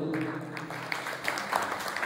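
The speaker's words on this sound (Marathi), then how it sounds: "निदान टाळ्या तुम्ही वाजवले" An audience at a prayer bhajan in the Solajai temple at Devrukh claps its hands: a short, dense, steady wash of applause from many people nearby.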